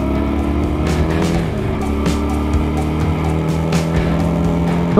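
Benelli Leoncino motorcycle engine and exhaust, a steady loud rumble with layered low harmonics and a smooth multi-cylinder-like tone, held near and continuous throughout.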